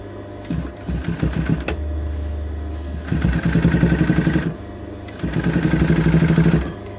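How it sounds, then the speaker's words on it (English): A domestic sewing machine stitches boning flat onto the side front of a dress bodice, running in two sustained bursts of rapid, even mechanical chatter with short pauses between, close and clear. "So pop that underneath the machine."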